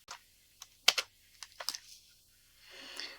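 Several quick keystrokes on a computer keyboard, sharp isolated clicks in an irregular burst followed by a softer smear of typing, close and clear in an otherwise quiet room.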